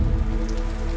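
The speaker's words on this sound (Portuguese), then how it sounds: "Vista aérea de Cachoeira na Mata." A forest waterfall gives off a steady, dense rush of falling water, loud and continuous throughout, with no voices.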